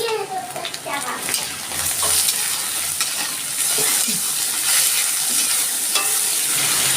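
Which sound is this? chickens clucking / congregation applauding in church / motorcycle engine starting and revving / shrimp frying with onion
shrimp frying with onion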